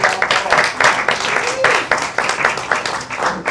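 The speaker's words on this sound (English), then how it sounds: "Big clap, big clap." Audience applause closing the first Village Cinematic Awards at the APP Awards 2022, steady, dense clapping from a crowd in a room, loud and close throughout.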